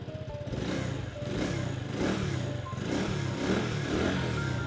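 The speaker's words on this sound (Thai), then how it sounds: "เรามาฟังเสียงท่อกันหน่อยดีกว่านะครับผม อ่าสตาร์ทติดทีเดียวรู้เรื่องเลยนะครับ" A 2022 GPX POP110 motorcycle engine idles just after starting, its exhaust giving a steady, close, even putter with a slight rhythmic pulse and no talking.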